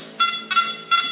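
Nokta Makro metal detector sounds its high target tone in three short bright beeps at steady intervals, close and clear over a faint hiss, with no voices.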